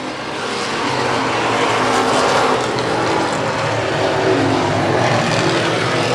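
Race cars roar around Wiscasset Speedway in a continuous, loud, dense engine drone that swells and holds steady as the pack runs close together.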